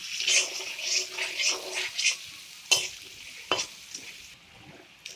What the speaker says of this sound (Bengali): প্রথমে গাজরটাকে আমি একটু ভেজে নেব।